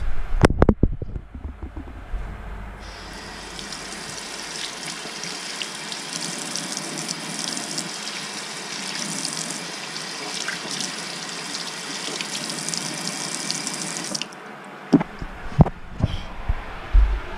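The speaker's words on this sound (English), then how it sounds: "Rinse all the starch off." Tap water runs steadily into a sink, rinsing starch off food during meal prep, a constant splashing hiss for most of the stretch before the flow stops and a few handling clatters follow.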